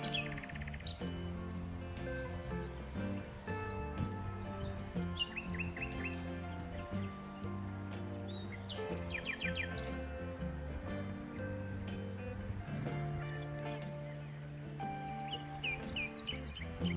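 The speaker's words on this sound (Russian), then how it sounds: "Вы послушайте, как птицы поют." Birds chirp and trill in bursts in the village of Moldavanskoye in Kuban in May, layered over a steady, dense background drone.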